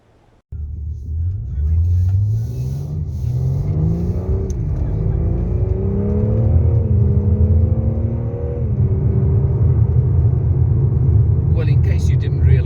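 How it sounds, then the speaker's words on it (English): A BMW M3 Competition in sport mode drives along with a loud, close engine rumble rising in pitch, its 8-speed M gearbox snapping through quick shifts that make the tone drop sharply several times before it climbs again. "you can hear the little shotgun gear shift, shall I call it, of the 8-speed gearbox"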